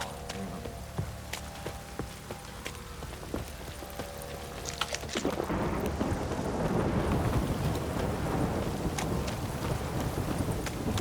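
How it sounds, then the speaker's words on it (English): Rain and rumbling thunder in The Witcher 3: Wild Hunt, at first quiet with a few sharp cracks, then swelling into a loud, dense downpour with wind, with no talking. "If it don't stop raining, my arse will rot off."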